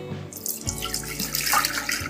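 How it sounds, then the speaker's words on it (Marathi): Water pours steadily into a thick mixture, a continuous splashing gush with some gurgling, close and fairly loud. "आता ही पेस्ट जी आहे यामध्ये 1 लिटर पाणी घालायचं"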